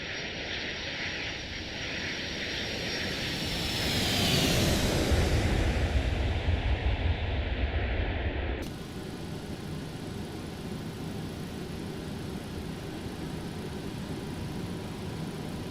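An American Airlines MD-82 during a go-around on approach to Cape Cod, with its jet engines spooling up at throttle-up into a loud, steady roar that swells and then settles into a constant cabin drone.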